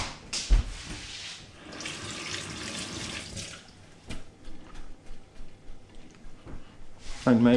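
Tap water runs and splashes into a sink while a carrot is rinsed under it, the flow surging in uneven pulses and ending with a sharper clatter.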